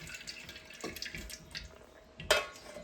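Cold water splashes over boiled Maggi noodles in a kitchen, a quiet patter of drips and trickles ending in a brief louder splash.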